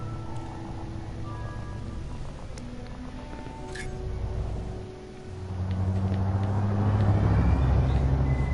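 Spaceship engines in Elite Dangerous rumble steadily as a low, continuous drone that swells louder and fuller in the second half, with no one speaking.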